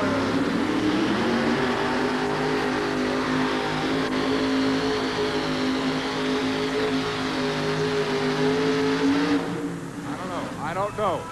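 A loud, sustained engine roar from a truck nicknamed the rice burner as it lights the tires in a 1988 USHRA pulling competition in Albany, holding steady for about nine seconds before cutting off, with voices over the arena noise.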